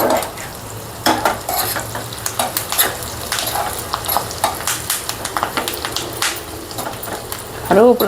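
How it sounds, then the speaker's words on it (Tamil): Curry leaves crackle and pop in hot ghee for ven pongal, sharp sizzling bursts and clicks from a nearby pan with stirring scrapes, while a voice talks over them. "கருவேப்பிலை தான் அப்படி வெடிக்குது"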